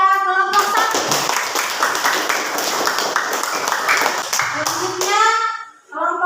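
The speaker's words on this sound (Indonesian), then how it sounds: "Oke, berikan aplaus kepada kelompok 1." Classroom of students clapping for a presenting group, a burst of dense applause that swells and then fades, with children's voices talking before and after.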